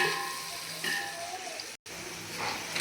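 Onion, tomato, ginger and garlic sautéing in a pan give a steady close sizzle with soft stirring, broken by a brief silent gap partway through.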